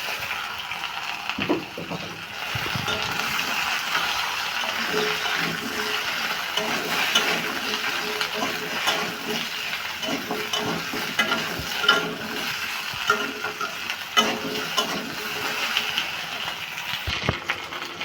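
Pieces of taro and potato fry with onion in a pan, giving a steady close sizzle with occasional scraping and stirring knocks throughout, no talk.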